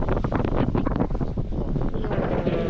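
Strong wind at sea during a transatlantic sailing race buffets the microphone in a steady, low roar, with faint rushing water beneath it.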